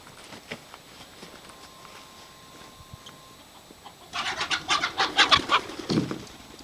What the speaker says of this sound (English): there's a chicken on the property still